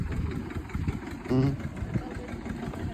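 A low engine rumbles steadily at idle, with a brief louder tonal burst partway through and indistinct voices mixed in.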